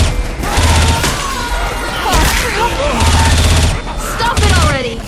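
Loud bursts of automatic gunfire in Left 4 Dead 2, repeated in several waves over a chaotic battle mix with in-game voices and crashing impacts.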